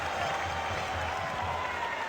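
A big esports arena crowd at a Counter-Strike Major semifinal, Vitality against Apeks, roars and applauds in a steady, dense wall of noise that fills the hall without a break.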